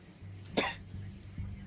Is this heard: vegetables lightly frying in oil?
no